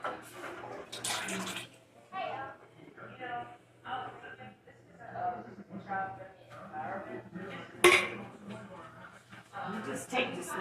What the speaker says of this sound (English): So I'm going to pour these peaches in this pot.